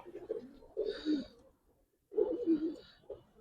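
Pigeons, giribaz and coloured breeds, give two soft, throaty bursts of cooing close by, separated by a short quiet gap.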